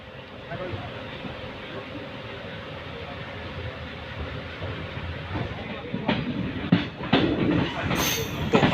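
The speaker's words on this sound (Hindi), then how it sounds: "तो अब अपनी ट्रेन एक और छोटे से स्टेशन गोविंदी मारवाड़ से रवाना हो गई है।" Passenger express train in India pulling away from the small Govindi Marwar station and rolling on rails: a steady rumble and rail clatter that grows louder and rougher toward the end, with a voice talking over it.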